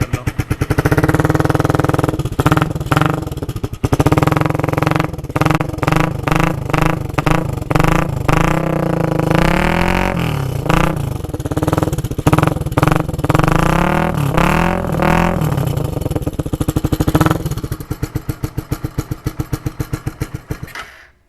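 A Suzuki Raider 150 motorcycle fitted with a Daeng 4 pipe exhaust and silencer starts up and runs close by, its engine revving repeatedly in quick throttle blips before settling and cutting out near the end.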